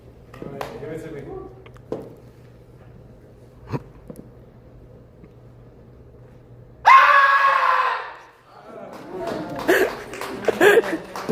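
A person at a live horror fest event lets out a loud, sustained scream in a short burst, preceded by quiet room murmur and followed by excited chatter and laughter from others.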